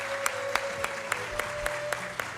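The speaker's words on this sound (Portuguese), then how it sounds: "Uma salva de palmas, gente, por favor." An audience claps for an honoree at a civic ceremony granting honorary citizenship, a dense steady wash of applause with regular loud claps punctuating it about every quarter second.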